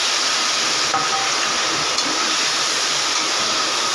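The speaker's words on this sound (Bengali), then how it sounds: "এবারে আমি ওই তেলের মধ্যে আলু ভেজে নেব" Potatoes deep-frying in hot oil after fish heads, giving a steady, dense sizzling hiss that stays loud and even throughout, with a couple of faint clicks and no talk.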